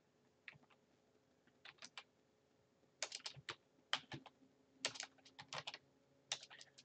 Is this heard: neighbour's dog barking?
no